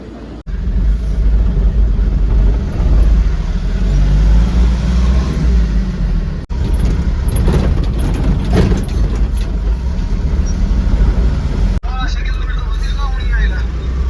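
A Tata 407 goods truck drives along with a steady low engine drone and road rumble heard from inside the cab, with someone talking over it throughout.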